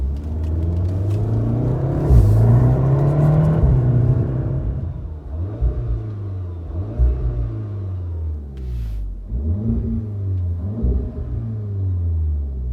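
A 2015 VW Golf R with an Invidia Q300 catback exhaust pulls away under partial throttle, heard from inside with a window open: a deep rumble rising in pitch through several upshifts, each followed by a dip.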